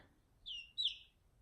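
A very small chicken, a tiny chick, gives two thin, high-pitched chirps in quick succession, close by in a quiet room.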